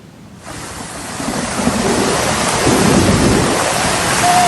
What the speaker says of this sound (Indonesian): di tengah derasnya hujan yang masih mengguyur